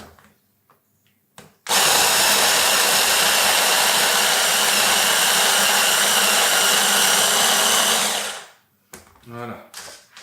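A food processor lightly chops pesto rosso ingredients, including pine nuts, in a steady loud whirring burst of about seven seconds, framed by faint handling clatter before and after.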